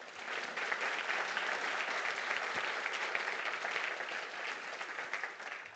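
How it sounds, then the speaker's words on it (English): Conference audience applauding a managing director after her summit talk, a thick continuous patter of many hands, fairly distant and level, with no voices over it. "Let's give her a round of applause"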